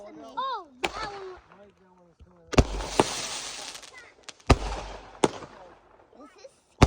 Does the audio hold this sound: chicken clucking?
no